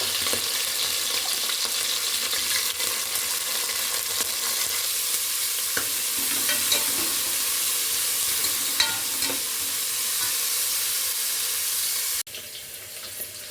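Green chilies and onion fry in a pan with a loud, continuous hissing sizzle and light stirring, no talk, cutting abruptly to a quieter sizzle at the very end.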